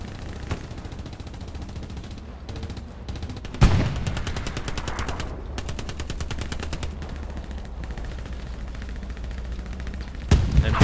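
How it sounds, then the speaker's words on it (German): Heavy gunfire from a tank and other weapons crackles through a World War II battle in the Hell Let Loose game, with rapid automatic bursts and loud booming shots around 3.7 and 10.4 seconds. "Irgendein Panzer schießt da auf euch."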